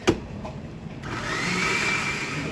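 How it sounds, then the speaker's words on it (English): An electric grinder grinds tomatoes for Cincinnati-style chili, starting after a brief knock and rising into a steady, close whirring motor drone that holds to the end. "I'm gonna dump my tomatoes in here. I'll set that aside. You're gonna grind that up."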